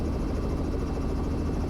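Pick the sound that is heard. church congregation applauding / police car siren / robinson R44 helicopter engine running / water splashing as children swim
robinson R44 helicopter engine running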